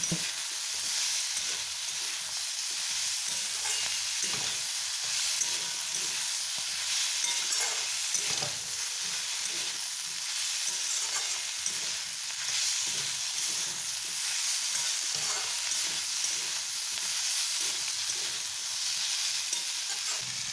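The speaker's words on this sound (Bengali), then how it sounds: "আর তো চলো ভালোভাবে একটু কষিয়ে নিই তারপর মশলাটা দেবো" Pumpkin and Malabar spinach stir-frying in a pan give a steady, close sizzle that runs unbroken throughout, with soft scrapes of stirring scattered across it and no voices.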